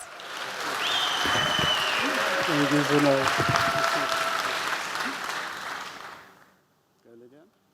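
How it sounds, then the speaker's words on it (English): Applause from an audience at a real estate talk fills most of the stretch, steady and dense, then fades out before a brief spoken thanks near the end. "give them a well-deserved round of applause"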